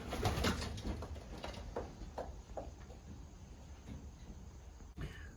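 About thirty pigeons coo softly inside a loft, low murmuring calls repeating faintly under a steady hush, with a brief scrape or knock near the end.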